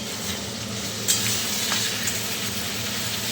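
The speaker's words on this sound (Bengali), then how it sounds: "রসুনও ভাজা হচ্ছে" Spices, garlic, onion and potato sizzle in hot oil in a pan, a steady close hiss with a brief sharp clink from stirring early on and no talking.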